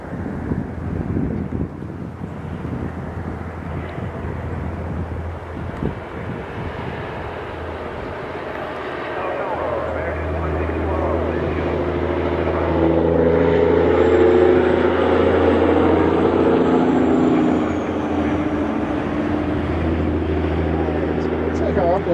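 A jet airliner departs from Philadelphia International Airport, its engine roar swelling from a low rumble into a loud, sustained drone with wind buffeting the microphone and a faint whine fading in overhead.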